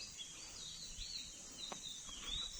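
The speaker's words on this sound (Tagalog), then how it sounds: "Puro huni ng ibon ang maririnig mo." Several birds chirp and sing on a farm, faint high calls repeating with short gaps over a quiet outdoor background, with no talking.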